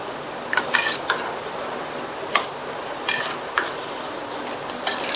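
A carrot, onion and yogurt pachadi gets stirred together in a bowl, with a spoon scraping and clinking against the sides in scattered, light strokes over a quiet background.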